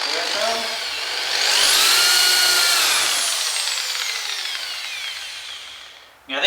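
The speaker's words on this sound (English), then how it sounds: "And then we just need to do a clear drill." A bench drill bores a clearance hole for an HO scale model railway layout, its motor pitch rising then slowly winding down over several seconds, close and loud, ending with a brief thud.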